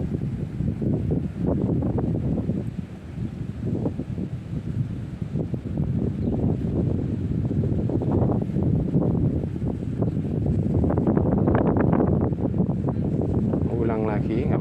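Gusty wind buffets the microphone steadily while fishing for tawes in windy weather, a dense low roar that persists throughout, with people talking under it.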